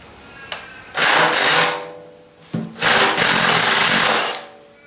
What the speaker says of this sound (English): I'm being a bit lazy here because I'm using the rattle gun